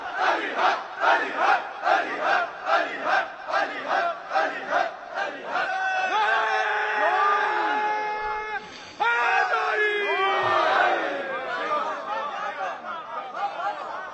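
A religious gathering chants in rhythmic unison, loud repeated call-and-response shouts of a crowd, then swells into a sustained roar of cheering and cries before the chanting resumes.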